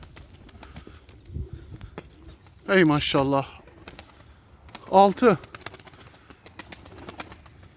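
A flock of pigeons, including strong sinekli-marked birds, soft cooing and faint wing flutters continue through the clip under two short bursts of a voice.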